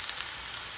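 Onions sizzle as they cook in a pan, giving a brief, steady hiss of frying that stays close and even throughout, with no voices.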